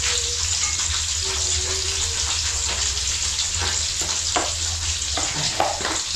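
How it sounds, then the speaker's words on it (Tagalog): Mussels frying in a pan with garlic, onion and ginger, a steady loud sizzle with occasional stirring clatter and scraping, with no talk over it. "Kaya dito na natin lulutuin yung tahong."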